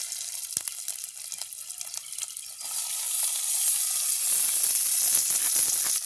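Onions, chillies and fennel seeds sizzle and fry in a pan with curry leaves, a steady close crackle that swells louder and brighter partway through, with occasional stirring clinks.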